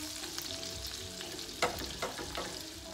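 About two cloves of garlic sizzle in a third of a cup of olive oil while being stirred, a steady close frying crackle with a few sharp clinks of the utensil against the pan.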